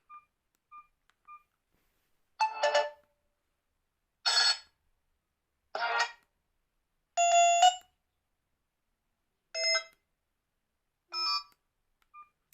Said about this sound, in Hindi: प्रोफाइल में हम इसके रिंगटोन्स को चेक करते हैं